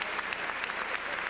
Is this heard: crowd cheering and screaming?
yes